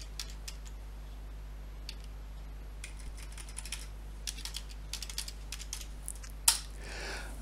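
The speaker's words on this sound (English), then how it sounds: "asks me to enter my user password" Someone types on a computer keyboard, quiet irregular key clicks in short bursts over a low steady hum, ending with one sharper tap and a brief rustle.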